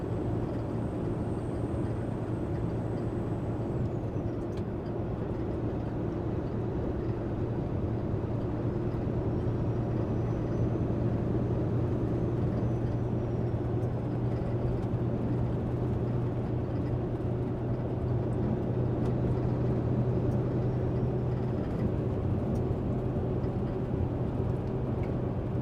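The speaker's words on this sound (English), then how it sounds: "people do say that they like just listening to the truck go down the road" Truck cruising down a road, heard from the cab: a steady low engine drone and road rumble with a constant hum and faint tonal whines above, continuous and even for the whole stretch, no talking.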